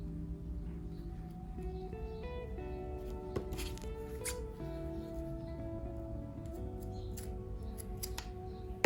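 Scissors snip through cover material being cut to size for a shabby-style layered cover, with scattered close crisp clicks over a low steady room hum and no talking.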